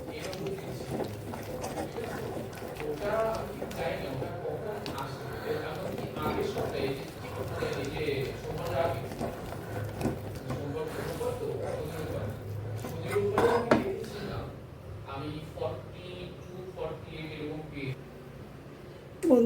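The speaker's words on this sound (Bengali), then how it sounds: "এমনভাবে ফেটাবো, ফেটাতে ফেটাতে আরও একদম সাদা হয়ে যাবে আর হালকা হয়ে যাবে।" Biuli dal (urad lentil) batter being beaten by hand in a bowl, a steady rapid patter of wet slapping strokes running throughout, with speech at moments.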